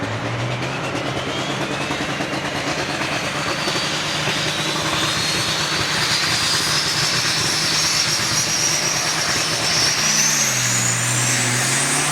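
Big rig race trucks roar at Onaway Speedway in a steady loud engine drone, with a rising whine building across the run as a truck accelerates down the lane.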